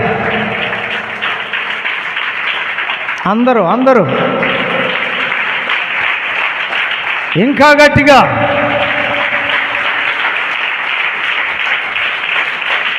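Church congregation at an Independence Day service clapping loudly and steadily throughout, with a pastor's amplified voice speaking over the applause in places.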